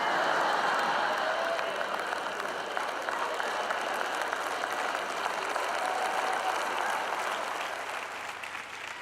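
Audience at a Christian faith teaching session gives sustained applause, a thick, even roar of clapping that continues for several seconds before thinning out slightly toward the end, with no talking over it.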